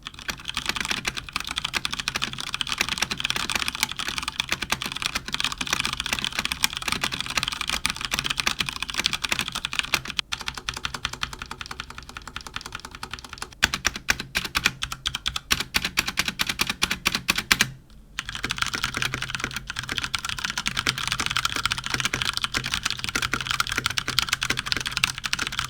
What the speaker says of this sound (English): Here's a quick typing test so you can get an idea of the sound.